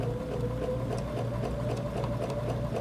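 A Bernina sewing machine with a lap seam foot stitches down quilt binding in contrasting thread, giving a steady, fast, rhythmic mechanical whir that runs continuously and close, with no voices.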